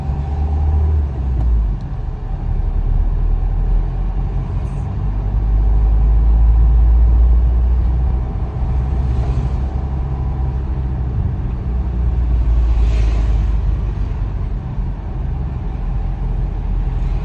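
A car drives steadily during driving test practice, its engine and road noise forming a loud, continuous low rumble that swells slightly midway, with no talk in the cabin.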